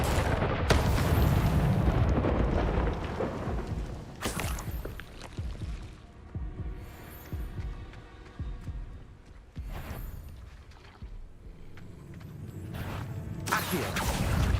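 Spell effects play in Hogwarts Legacy, with loud whooshing fire-like bursts and rumbling impacts that surge and fade repeatedly over a dense game soundscape, with no talking.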